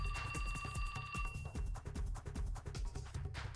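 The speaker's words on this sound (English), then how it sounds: "the ringtone startled him out of his fury" A phone ringtone in a video game trills with steady high electronic tones over a busy, rhythmic stretch of game music that continues after the ringing fades.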